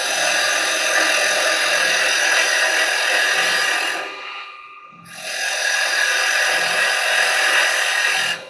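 Wood spins on a lathe while carbide chisels cut, giving a loud sustained scraping hiss that breaks off for about a second, then resumes just as strongly.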